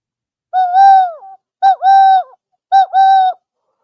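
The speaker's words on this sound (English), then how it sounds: "I called in the birds." Pigeons or doves give three loud, close cooing calls, each a drawn-out two-part coo separated by brief silences.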